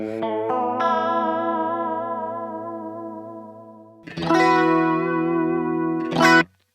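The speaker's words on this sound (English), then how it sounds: "The middle knob is my chorus rate." An electric guitar note rings out with a shimmering chorus effect, sustaining and slowly fading before a second bright strum rings briefly and cuts off.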